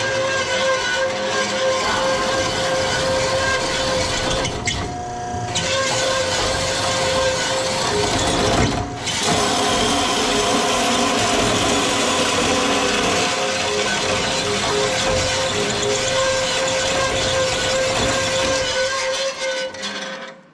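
Bandsaw slicing through clamp bar stock held in its vise, a steady loud grinding whine running almost unbroken for twenty seconds with a brief dip partway through, no voices.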